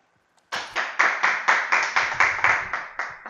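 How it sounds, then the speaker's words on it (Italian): Audience clapping at The Division gaming tournament final: a short run of about eleven evenly spaced, fairly loud claps in a steady rhythm, with no voices over it. "Applausi dalla platea."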